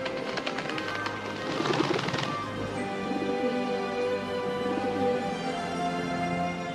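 A dove coos repeatedly in soft, rounded calls, fairly close, over a steady low background murmur.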